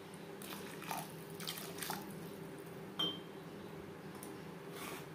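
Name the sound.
water being added to paneer curry in pan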